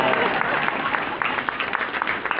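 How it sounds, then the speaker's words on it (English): Crowd clapping at an outdoor candlelight vigil in Las Vegas, a steady wash of many hands with sharper individual claps standing out, heard fairly close and alone without speech. "you can clap for him."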